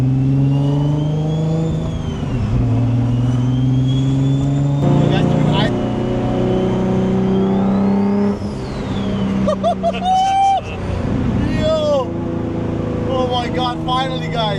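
Big-turbo Infiniti G35 revving hard, the engine note climbing and dropping through gears with rising turbo whine. It plays loud and close from inside the car while someone talks excitedly over it.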